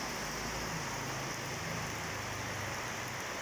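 Steady rain falls in Vang Vieng, a dense, even hiss of drops on surfaces with a low rumble underneath, continuous and moderately loud with no voices.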